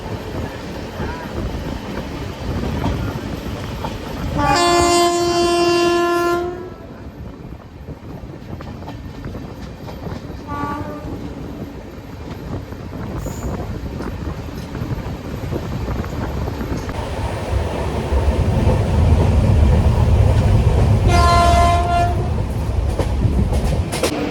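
A train rumbles through Salem railway station with a steady clatter of wheels, and loud horn blasts ring out near the start, briefly in the middle and again toward the end, while the rolling noise swells louder.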